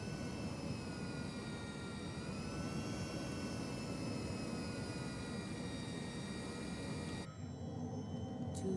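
A flight simulator jet cockpit in a video game, a steady, quiet engine drone with whining tonal hum as flaps and landing gear lower, the sound shifting abruptly near the end.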